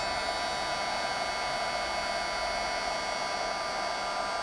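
Heat embossing tool blowing hot air onto a card, a steady loud whooshing blower drone with a faint whine, constant and close for the whole stretch.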